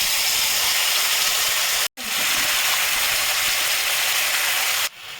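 Onion, cashew and raisin paste hisses loudly and steadily in hot oil for matar paneer, a dense close sizzle that briefly cuts out once before resuming.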